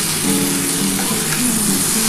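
Potatoes and spring onion greens frying in a pan give off a steady, close sizzle with soft crackling that runs unbroken throughout, no voices over it.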